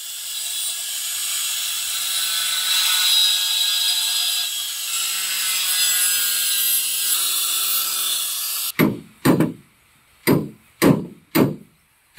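Half-inch PVC pipe being cut for a campervan water storage setup: a long steady rasping, grinding stretch, then five sharp, loud snapping clicks in an even rhythm, close by and with no talking.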